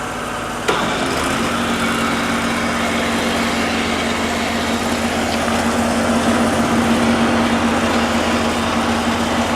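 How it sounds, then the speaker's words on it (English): A trailer-mounted sewer jetter's sludge pump starts with a sharp thump and then runs as a steady, loud engine drone with a constant hum, continuing unbroken with no talk. "All right, we got the sludge pump ready to go."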